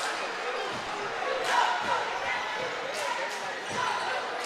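High school basketball crowd in a gymnasium cheering during a game between Spencer and Northside, a steady roar of voices with occasional ball bounces and sharp squeaks, commentary running over it.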